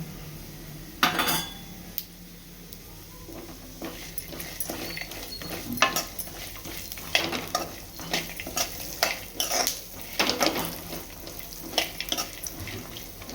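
Dry fruits and watermelon seeds being stirred and roasted in a pan for laddu, with a spoon scraping and clinking against the metal in irregular bursts over a faint, steady background hiss, fairly quiet and without speech.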